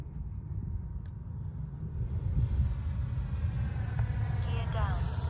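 A radio-controlled model jet comes in to land at an RC airfield, its turbine whine rising and shifting in pitch as it passes over a constant low roar, with faint voices in the background.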